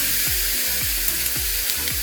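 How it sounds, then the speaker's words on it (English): Steady, loud sizzling of chicken thighs frying on a hot George Foreman electric grill, with a continuous hiss and faint crackles throughout. "It's nice and hot now, you'll hear the sizzle."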